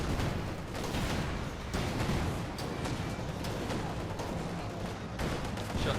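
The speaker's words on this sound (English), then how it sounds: "Shots fired." Gunfire in a Company of Heroes 2 match: a continuous dense battle mix of distant rifle and machine gun shots with rumbling explosions, steady and busy without clear separate shots.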